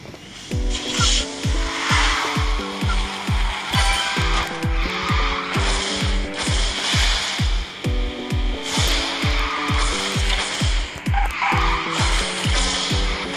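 Engine roar and tire skids from a racing car in the QQ Speed Mobile game, loud and continuous, over a rhythmic pulsing beat.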